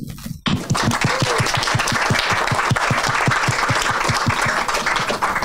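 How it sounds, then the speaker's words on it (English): An audience applauds at a lecture, loud dense clapping that starts abruptly, with a few sharp, rhythmic near claps standing out above the crowd. "You can applaud to yourselves for being such a nice audience."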